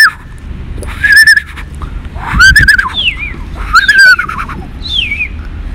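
Colorful birds at a zoo squawk and screech loudly and close, several harsh calls overlapping over a few seconds, with no talking.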